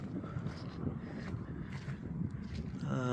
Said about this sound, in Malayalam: നല്ല കാറ്റുണ്ട്, ചെറിയൊരു കാറ്റ്